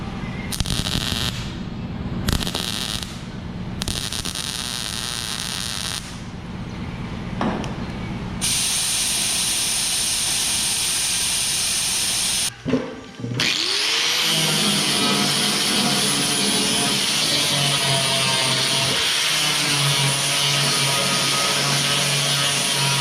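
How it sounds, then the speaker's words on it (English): Work on a truck while fitting a Yukon fuel door and a custom tool box: loud bursts of hissing, sputtering welding start and stop, then a sustained, steady high-pitched grinder whine takes over and runs to the end. "there's our first bit of welding done and ground down"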